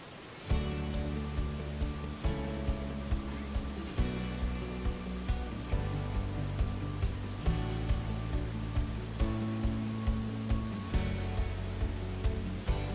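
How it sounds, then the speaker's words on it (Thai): A waterfall flows beside a riverside tent campsite in Saraburi at night, a constant broad rushing wash of water, with repeated soft knocks and a faint tonal hum layered over it. "นอนฟังเสียงน้ำตกไหลทั้งคืน"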